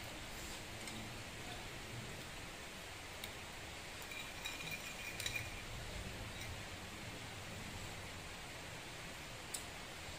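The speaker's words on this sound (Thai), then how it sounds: "ฝนตก" Rain falling outdoors as a steady, even hiss of fine drops, fairly faint and continuous with a few small taps, no voices.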